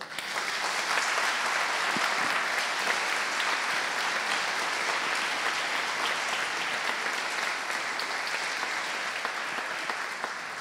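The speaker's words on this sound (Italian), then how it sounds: "Grazie a Edoardo Striani, ancora un applauso." An audience at a science festival ceremony applauds steadily and loudly for about ten seconds, a dense, even wash of clapping with no voices.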